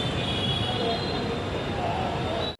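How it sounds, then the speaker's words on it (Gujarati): A passenger train pulls into a railway platform on a route to Porbandar, giving a steady, loud rumble of wheels with a high metallic squeal running throughout before it abruptly cuts off. "અમારી ટ્રેન આવી ગઈ છે"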